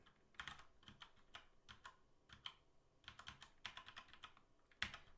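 Typing on a computer keyboard during a class session, quiet and somewhat distant, with bursts of rapid clicking broken by short pauses and no talking.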